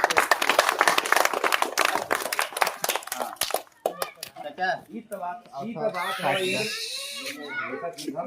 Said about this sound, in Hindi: ताली क्लैपिंग करे भाई।